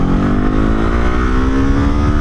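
A 2025 Kawasaki Eliminator motorcycle with a Ninja engine accelerates hard, its loud, close engine tone rising steadily in pitch through the whole stretch, with no talking.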